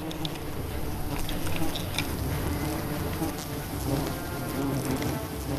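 A dense swarm of giant honeybees buzzes around a hive high in a tree in Cambodia, forming a continuous, close, even hum of many wings that lasts throughout.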